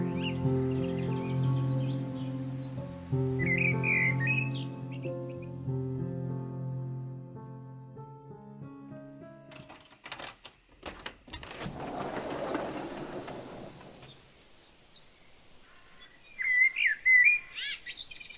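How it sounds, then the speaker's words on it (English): Garden birds call and sing in short chirps and tweets that come and go over a soft, tonal background, growing brighter and busier near the end. "the calls and songs of the birds grew, and into Alwyn's garden they returned and flew"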